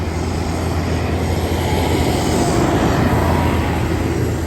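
A John Deere 7530 tractor engine labours steadily up a hill climb, a loud, continuous low drone with no letup.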